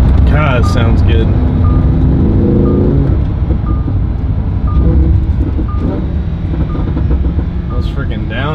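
A Lamborghini Huracan engine revs and drops through downshifts with rising and falling harmonic tones, loud and close, over steady road rumble, with people talking intermittently.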